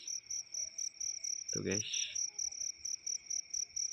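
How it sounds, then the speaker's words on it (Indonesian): A cricket chirps in steady, rapid pulses close by during a night outing to catch crickets in Indonesia. Someone briefly speaks over the chirping. "Ini udah ada jangkrik yang kelihatan guys"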